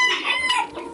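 Free-fed farm chickens cluck in a brief, close burst of squawks and calls with no talk.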